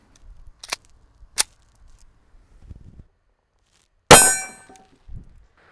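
A 5.7 blue tip bullet strikes a steel target at a shooting range, giving one loud, sharp metallic clang that rings briefly. A few faint thumps and soft noises come before it, and a small knock follows.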